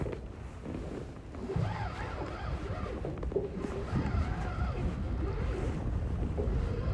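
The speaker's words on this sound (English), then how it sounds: "I hope the audio works on this, because this wind today is like torture." Wind buffets the microphone on a fishing boat on Cayuga Lake, a constant loud low rumble with gusting swells and faint water slapping beneath it, with no talking.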